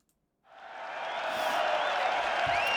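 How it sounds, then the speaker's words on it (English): Big crowd at a live heavy metal concert in Brazil cheering and applauding, a dense roar that swells in after a brief silence and holds loud and steady, with faint whistles rising through it. "That was a big crowd."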